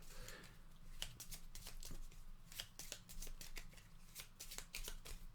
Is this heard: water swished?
no